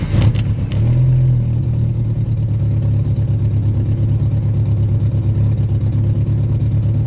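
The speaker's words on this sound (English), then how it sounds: "That's idling right where it should." A 1986 Jeep Comanche 2.5L four-cylinder engine idling close up: a brief startup surge, then a loud, steady, even rumble with a regular pulsing beat throughout, no talking.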